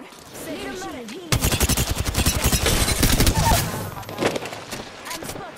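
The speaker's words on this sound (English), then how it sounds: "Shots fired." Rapid automatic gunfire in the battle royale game Apex Legends, a long, loud burst of fast repeated shots that tails into scattered cracks, with a voice heard faintly before it starts.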